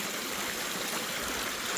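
Water from a stream trickles and splashes steadily into small waterfall pools and rock water holes in the Australian outback, a continuous broadband rush heard close and alone.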